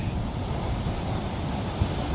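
Sea surf and swell wash steadily against a big cliff fishing mark about an hour before high tide, with gusting wind buffeting the microphone in a continuous, loud roar.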